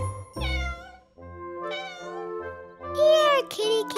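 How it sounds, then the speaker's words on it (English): A cat meows several times, a sequence of drawn-out, rising-and-falling cries at moderate volume against a quiet background, with no talking. "Making that meow sound. It sounds like an animal."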